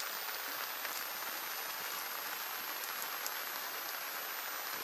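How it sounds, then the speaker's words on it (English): Rain falling outdoors near a river, a dense, steady hiss of drops hitting surfaces, loud and even throughout, with no voices. "I'm sure the fact that it's raining isn't helping."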